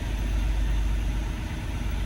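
A 1995 Prevost coach's engine idles in a steady, low rumble, loud and close, with an even drone and no talking.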